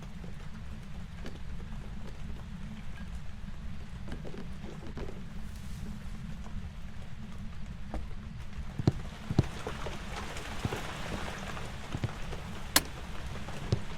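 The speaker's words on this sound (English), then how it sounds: "all I can hear is the goddamn rain" Steady rain in the horror game Phasmophobia, a dense continuous hiss that fills the whole stretch, with a few sharp knocks and clicks near the end.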